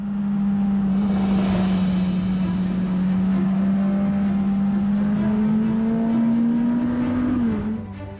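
A Suzuki GSX-S1000GT motorcycle runs at high speed on a test course, its engine holding a loud, steady drone that slowly rises in pitch before easing off at the end.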